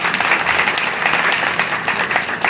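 A crowd at a political gathering in Faridpur claps steadily together, a dense, close, continuous round of applause with no speech over it.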